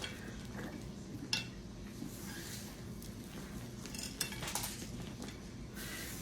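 Utensil clinking and scraping in a bowl while crushed candy bar is stirred into cake icing, quiet irregular clicks and a few sharper taps close by.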